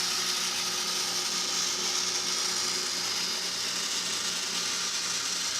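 The clockwork drive of a Kodak Cirkut No. 8 panoramic camera turns with a steady, faint mechanical whir and fine ticking while the camera rotates on its tripod.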